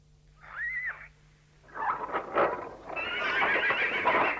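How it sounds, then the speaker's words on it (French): Horses at a stable: one clear whinny rising and falling, then a stretch of hooves clip-clopping with stamping and movement that grows steadily louder and busier toward the end, with no talking. "nous avons toutes sortes de chevaux à l'écurie"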